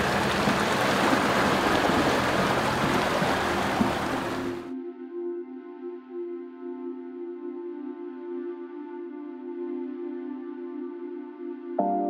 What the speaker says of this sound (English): Okay, we found a waterfall.